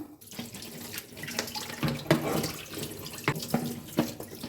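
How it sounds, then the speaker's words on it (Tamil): Tap water runs into a kitchen sink, rinsing a freshly scrubbed item, with a steady splashing flow broken by brief clatters and knocks of the object against the basin, close and fairly quiet. "இப்போ வந்து நம்ம தண்ணியில் வாஷ் பண்ணிக்கலாம்."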